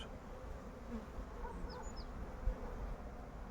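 Honeybees buzz in an opened hive during an early-season colony check, a soft, continuous drone with faint passing flyby hums and no voices.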